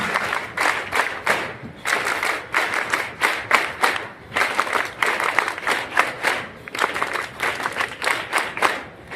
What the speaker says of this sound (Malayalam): N S S clap please